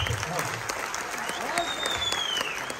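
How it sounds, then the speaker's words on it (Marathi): Applause from a theatre audience in the balcony during a Marathi comedy stage show, a steady broadband clatter of many hands held at moderate level throughout, with some crowd noise mixed in. "जरा जोरदार टाळ्या बाल्कनीतून"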